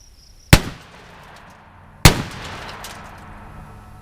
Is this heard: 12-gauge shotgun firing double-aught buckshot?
yes